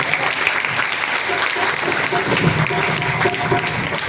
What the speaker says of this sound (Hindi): एक बार जोर से ताली बजाकर